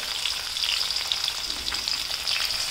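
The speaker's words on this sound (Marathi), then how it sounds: "त्यासाठी तेल गरम झाले, आता ही मोहरी, कढीपत्ता, टोमॅटो" Mustard seeds, curry leaves and tomato sizzle loudly in hot oil in a pan, a dense continuous crackle and hiss with small popping bursts, close up and uninterrupted.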